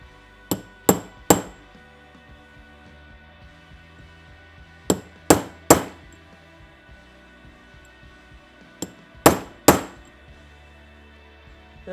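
A seal is driven into a Triumph 650 motorcycle engine with a driver tool, three groups of sharp metallic hammer taps, two or three blows each, close and crisp with quiet pauses between.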